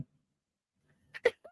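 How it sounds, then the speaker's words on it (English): A single quick sneeze bursts out of near silence, followed by a brief faint sound. "Sneeze."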